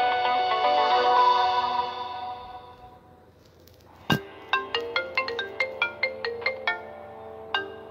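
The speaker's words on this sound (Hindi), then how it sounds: "फोन आ रहा है।" A phone ringtone plays: a sustained melodic tone fades, then a sharp note starts a quick run of bright, evenly spaced chiming beeps.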